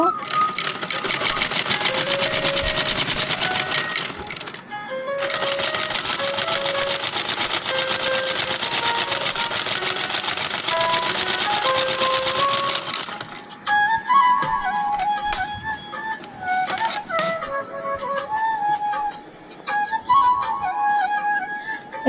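A sewing machine stitching palazzo pants runs in a fast, steady whirring clatter for long stretches, stopping briefly between runs, with someone talking over it.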